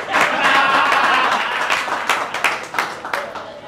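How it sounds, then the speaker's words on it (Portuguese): An audience applauds with loud, dense clapping and crowd noise at first, then it thins out into scattered, separate claps toward the end. "ele merece uma salva de palmas"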